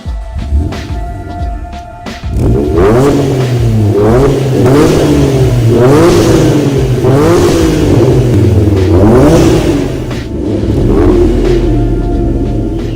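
A 1991 Acura NSX engine revs repeatedly, loud and close, each throttle blip rising and falling in a rhythmic series of roughly eight surges over a steady idle rumble, with no talking.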